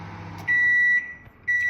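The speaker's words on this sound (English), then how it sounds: "First time using a French microwave in Africa." A French microwave oven in Abidjan hums steadily nearby, interrupted by two loud, sustained electronic beeps, the first lasting about half a second and the second starting near the end.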